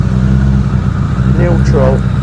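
Suzuki Bandit 600cc motorcycle idling steadily nearby, a low, even engine hum throughout, with a brief clunk near the end as it is put into gear.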